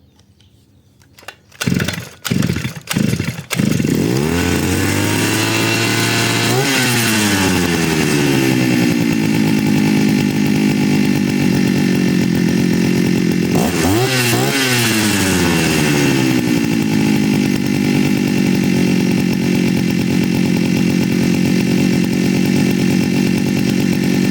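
A NAC Demon Hecht petrol brush cutter's small two-stroke engine sputters through a few pull starts, catches and runs steadily at high, buzzing revs, briefly dipping and rising again, loud and close.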